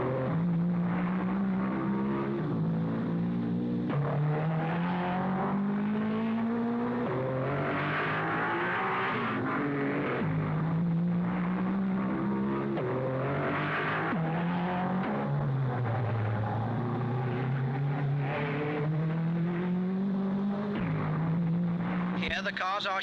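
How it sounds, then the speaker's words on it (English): 1955 Monaco Grand Prix Formula 1 cars roar and whine past along the seafront, pitch rising and falling as they accelerate, with a commentator talking over the noise. "Here the cars are shooting away from the railway arches onto the seafront."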